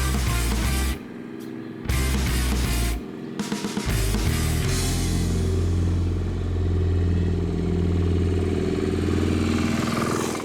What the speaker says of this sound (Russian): Я еду, а мотоцикл не тарахтит, но едет так же динамично.